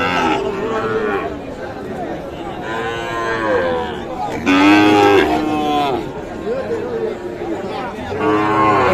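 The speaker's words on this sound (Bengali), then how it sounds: "এই পাশে দেখছিলাম আমরা একটা বাছুর, এটাও কিন্তু দেখা দেখি চলছে।" Sahiwal bulls and calves low repeatedly at a busy cattle market in Mymensingh, with loud close moos rising above steady crowd chatter and someone talking.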